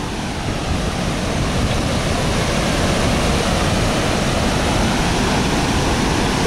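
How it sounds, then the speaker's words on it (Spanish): Aponwao waterfall in the Gran Sabana of Canaima, Venezuela, a loud broad steady roar of falling water filling the whole clip with no voices. "Salto Apunguao, Canaima, Venezuela,"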